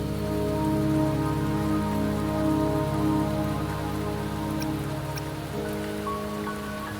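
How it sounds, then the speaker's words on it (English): Steady rain falls in the Wuthering Waves game world, a soft continuous hiss and patter holding at an even level for several seconds, with no talk over it and only faint musical tones in the background. "Don't worry, the rain won't last much longer."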